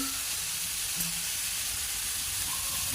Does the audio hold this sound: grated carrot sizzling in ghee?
yes